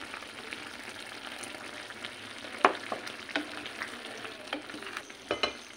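Tomato tofu sauce simmering in a pan as a cornstarch solution is stirred in, with a steady soft bubbling sizzle and light scraping stir taps from a spoon, close and fairly quiet.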